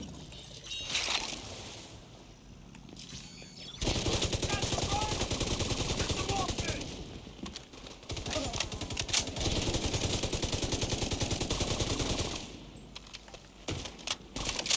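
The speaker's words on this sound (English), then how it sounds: "Damage feels really weak for this light machine gun for some reason" A light machine gun fires in long sustained bursts in The Division 2 during a mission at the Potomac Event Center, dense rapid rattling shots separated by short pauses, with faint game audio between bursts.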